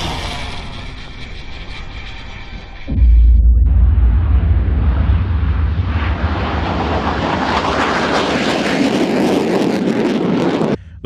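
Military jets roar past: two B-1B Lancer bombers and six F-15C fighters in flight. A loud, steady broadband engine roar begins abruptly and holds near, with a low rumble and rising hiss, and no voices.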